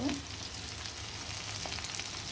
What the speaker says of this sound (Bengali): পেঁয়াজ দিয়ে গরম মশলা দিয়ে ভালো করে নাড়াচাড়া দিয়ে দিব।